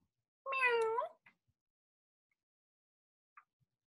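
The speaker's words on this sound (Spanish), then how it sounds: "Conocemos a un gatito." A single kitten meows once, a clear, close, rising-then-falling call lasting about half a second, followed by near silence with a couple of faint tiny clicks.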